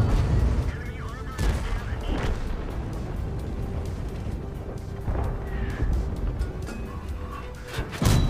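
M47 Iron Arnie tank in World of Tanks firing armor-piercing rounds: several loud, booming cannon shots with rumbling battle noise running throughout, a voice speaking over it.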